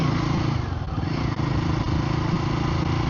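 Royal Enfield Guerrilla 450 motorcycle engine running steadily at close range, a continuous low throbbing rumble with no pauses and no talk.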